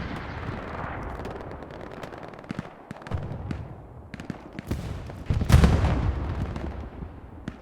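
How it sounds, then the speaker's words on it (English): In the Hell Let Loose game, an anti-tank gun and surrounding gunfire crack repeatedly in a busy battle, with a loud heavy blast near the end over background rumble. "This is a lovely AT gun."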